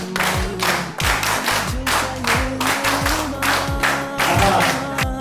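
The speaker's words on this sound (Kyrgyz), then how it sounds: "меймандар той башына кыр катуура кол чаап коюш шарты бар" Guests at a birthday jubilee party in Moscow clap hard in unison, a loud, steady crowd applause lasting throughout, with low rhythmic thumps pulsing underneath like party music.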